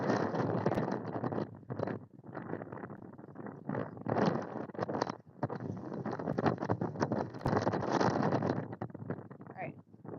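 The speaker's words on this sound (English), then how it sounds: "I don't know if you guys can hear the wind." Strong outdoor wind buffets the microphone during a horse ride, a loud, rough rumble that keeps coming in gusts with brief lulls.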